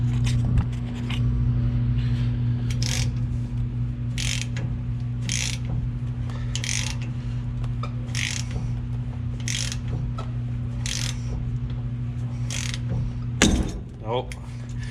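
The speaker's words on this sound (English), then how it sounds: "hopefully we can just pull this flange right off here" A puller works a pinion flange off the rear axle of a 2001-or-later Dodge Ram 2500/3500 with an AAM 11.5 axle. It makes a steady, regular series of close mechanical clicks and ratcheting snaps over a constant low hum, ending in a brief clatter.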